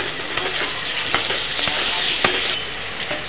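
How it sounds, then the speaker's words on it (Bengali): Small potato pieces sizzle in hot oil with a little salt, a loud, steady crackling hiss close by, punctuated by occasional stirring clicks. "আলুটাকে লাল লাল করে ভেজে নেব।"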